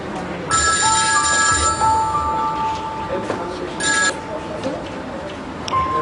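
A telephone rings with a repeated electronic trill in bursts, fairly loud and close, over background sound.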